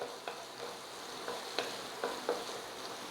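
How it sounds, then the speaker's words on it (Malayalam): Crushed ginger and garlic sauté in coconut oil for Kerala-style kadala curry, a soft steady sizzle with light, occasional stirring clicks. "ഇഞ്ചിയുടെയും വെളുത്തുള്ളിയുടെയും പച്ചമണം മാറുന്നവരെ ചെറുതായിട്ടൊന്ന് വഴറ്റി കൊടുക്കുക"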